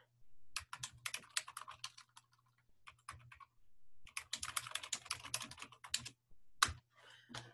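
Typing on a computer keyboard in quick bursts of close, crisp key clicks with short pauses between runs and a faint steady hum underneath.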